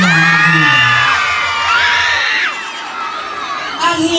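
At a fiesta event, a crowd whoops, shouts and cheers loudly and close, with a yelling voice above the mass of noise.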